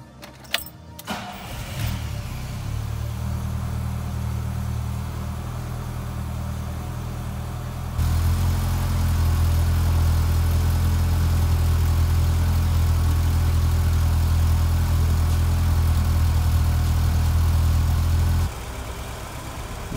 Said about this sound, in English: it is now time to start up the engine and let it run for a couple of minutes until it is fully warmed up